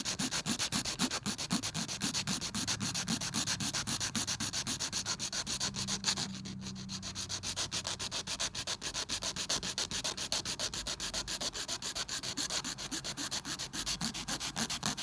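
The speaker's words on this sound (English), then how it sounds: "And our tips are still holding up with all the filing that I'm doing." A hand nail file is worked back and forth over acrylic nail tips with a French design, making fast, rhythmic rasping strokes that continue close and steady throughout.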